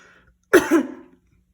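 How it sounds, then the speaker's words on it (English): A single short adult cough, close and fairly loud, with a quick double burst and a rough throat-clearing tail, set against near silence. "I feel like I'm trying to cough and need a little bit of water"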